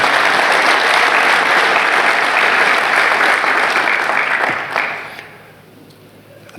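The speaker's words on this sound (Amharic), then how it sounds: "እስኪ ለጌታ አንዴ ጭብጨባ" A church congregation claps together in loud, sustained applause that fills the room, then fades quickly to quiet near the end.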